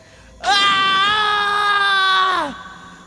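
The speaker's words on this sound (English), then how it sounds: "The one with the worst scream of all time ever." Zero, the red-armored hero of the Mega Man Zero video game, lets out a loud, sustained, strained scream lasting about two seconds before it drops off sharply.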